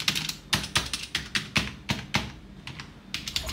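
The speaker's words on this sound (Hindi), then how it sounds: "फीडबैक कैसा है कीज का, की प्रेस करने पे कैसा हो रहा है" Rapid key presses on an Ant Esports MK1400 Pro gaming keyboard, a run of about a dozen sharp, close clicks in an uneven typing rhythm, heard alone.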